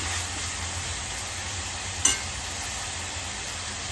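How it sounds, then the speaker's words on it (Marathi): Prawns sautéing in a pan with onion-ginger-garlic paste, a steady soft sizzle running throughout with one brief stir or clatter midway. "कोलंबी चांगली परतून घ्यायची, म्हणजे कांदा आलं लसूणची पेस्ट सगळी त्याच्यामध्ये मिक्स होईल"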